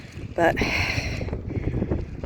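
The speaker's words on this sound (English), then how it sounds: "it's a bit windy, so I'm sorry if you can hear that" Wind gusting outdoors in a garden vegetable bed beside a pallet compost heap, a steady rushing buffet across the microphone throughout, with a brief louder burst near the start and a voice speaking over it.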